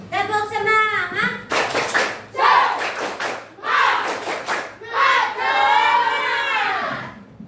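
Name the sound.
class clapping chant (tepuk semangat)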